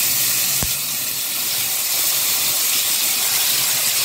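Masala-coated brinjal pieces drop into hot oil already popping with mustard seeds and cumin, setting off a loud, steady, close hiss of sizzling that runs unbroken throughout.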